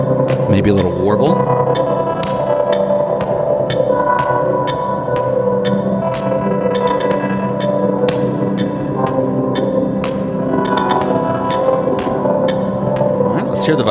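Electric guitar with a warble effect layered on reverb, its sustained notes wavering in pitch under an even, ticking pulse; a continuous, fairly loud close passage with no speech.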